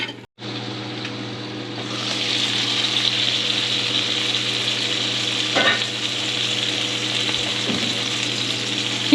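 A Vietnamese banh xeo crepe frying under a lid in a hot pan, giving a loud, steady, close sizzle that begins after a brief quiet moment and holds through to the end, with an occasional faint knock.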